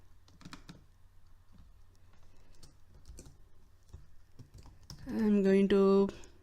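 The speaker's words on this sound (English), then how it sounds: "as I type, it's giving me suggestions to complete the code." Typing on a computer keyboard, light irregular clicks and taps close by, ending under a brief burst of loud speech.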